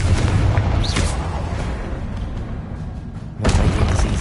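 Booming spell blasts in a wizard video game: a loud explosive burst near one second, a sustained rumbling roar through the middle, and a second sharp blast around three and a half seconds, with no talking.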